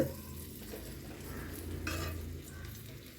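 Masoor dal kebabs frying in butter in a pan, a soft steady sizzle with faint scraping and stirring, quiet and close, no talk.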